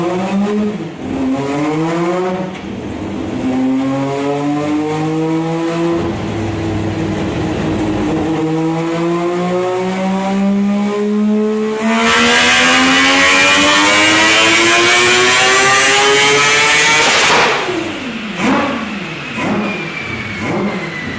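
Naturally aspirated three-rotor 20B rotary engine in a Mazda RX-7 revving hard to just under 10,000 rpm, a loud, rising, continuous wail with repeated climbs and drops and a sharp surge partway through, heard alone without voices.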